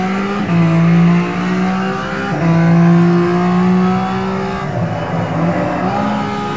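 BMW Z3 engine in the GTR2 racing game on the Nordschleife, played with a Logitech G25 wheel, droning loudly and steadily with repeated pitch climbs through the gears and brief drops at each shift.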